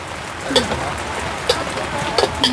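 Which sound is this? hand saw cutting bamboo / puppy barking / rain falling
rain falling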